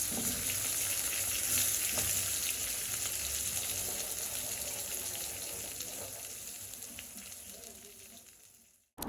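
Spiny gourd (kakrol) frying in a pan gives a steady close sizzle and crackle that slowly fades toward the end before a sharp sound cuts in at the very end.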